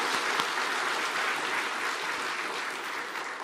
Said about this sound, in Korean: 다시 한번 우리 찬양대 여러분들 향해서 큰 박수를 한번 격려하겠습니다.